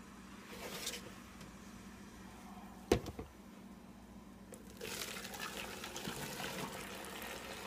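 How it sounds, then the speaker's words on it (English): Milk is poured into a container for homemade yogurt. A sharp knock is followed by a steady, close rush of flowing liquid over the last few seconds, and no one speaks. "So you pour your milk into the container you're going to use."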